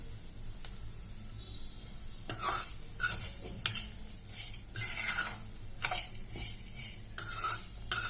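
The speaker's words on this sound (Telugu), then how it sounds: "ఈ నెయ్యిలో దూరగా అటుకులను కూడా వేయించుకోవాలన్నమాట ఇలా దూరగా వేయించుకోవాలి" Flattened rice roasting in ghee for Krishna Ashtami payasam, a soft continuous sizzle broken by repeated scraping strokes of a spoon against the pan, close and fairly quiet, with no talking.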